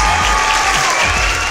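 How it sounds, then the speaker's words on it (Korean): Hand clapping fills the whole moment, a dense, loud burst of applause that sounds like several people clapping together. "일단 박수 한번 치고 시작할까요?"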